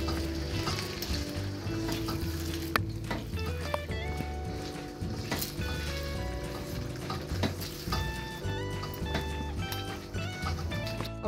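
A spoon stirs yogurt into a sizzling chicken karahi, with continuous frying crackle and intermittent metallic scraping against the pan and no voices.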